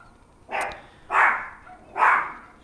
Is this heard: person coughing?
no